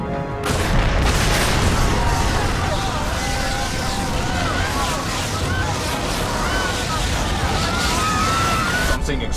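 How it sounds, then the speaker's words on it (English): Explosion aboard an airliner in flight during an air disaster reenactment, a loud, sustained roaring blast with rushing wind and debris noise filling the whole stretch, ending abruptly. "Something exploded."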